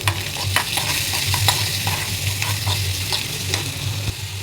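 Tomatoes frying with onion in a pan for a baby rava khichdi, a steady close sizzle with scraping stir strokes throughout.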